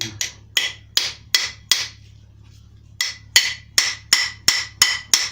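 A hammer strikes out an old rear wheel bearing on a 2006 Peugeot 206 TDI in sharp, evenly spaced metallic blows, about a dozen close loud hits with a short pause in the middle.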